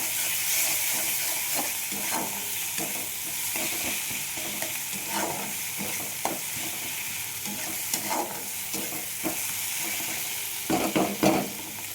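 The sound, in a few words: sautéing fish curry with raw mango in a pan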